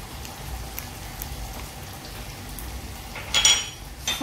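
Fish frying in a pan with tomatoes and green chili paste, a soft continuous sizzle like light rain, with a brief louder crackle near the end.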